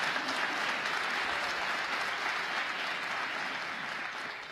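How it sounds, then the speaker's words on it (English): An audience claps continuously, a dense, even wash of applause that holds steady and tapers slightly at the end. "Let's give her a round of applause."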